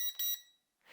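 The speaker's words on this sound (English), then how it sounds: "You will hear the corresponding number of beeps to your mode." Beeps from a drone controller signalling its speed mode: two short, bright tonal beeps close together, then a brief pause and a softer noisy tail.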